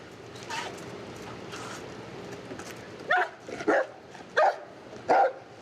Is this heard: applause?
no